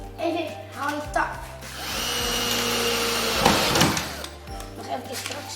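Power drill boring into wood while a father and children build a dollhouse, with several short whirring bursts and one longer sustained run, under talk between the father and a child.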